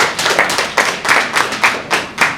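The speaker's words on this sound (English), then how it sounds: "can we give him a round of applause, please?" A lecture-hall audience at a university inaugural lecture claps for a former Nigerian head of state in a short burst of hand clapping, with a loose rhythmic series of claps that is close and clear.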